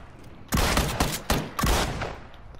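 Sawed-off shotgun gunfire in PUBG, three loud close blasts spaced roughly half a second apart, each with a short decaying tail.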